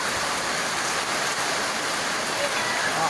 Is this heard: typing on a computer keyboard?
no